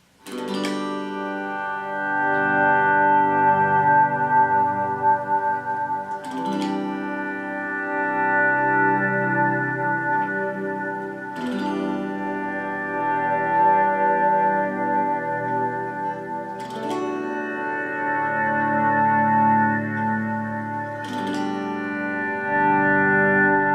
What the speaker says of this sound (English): So I'll just swell in with my reverb and just my overdrive.